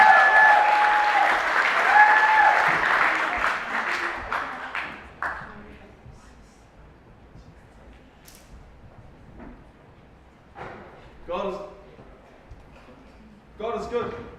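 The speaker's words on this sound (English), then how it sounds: "let's give him a round of applause" Audience applause at a youth rally, loud sustained clapping and cheering that fades over several seconds, followed by someone speaking into a microphone.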